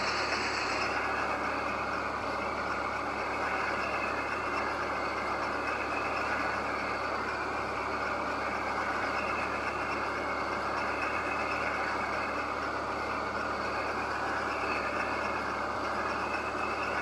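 Truck engine in a farming simulation game, a steady droning roar held at constant loudness throughout, with no clear rise in pitch.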